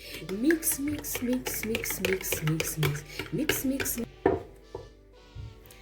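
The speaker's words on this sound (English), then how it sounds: "So, and this, our lime, go in right there. Then we mix." Chicken marinade with lime being mixed by hand in a bowl, giving close wet squelches and clinks of the bowl mixed with someone talking throughout.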